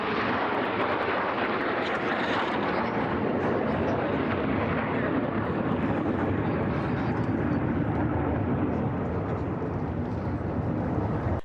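A military jet flies low overhead, a loud, continuous roaring rumble that holds steady throughout and fades only slightly toward the end.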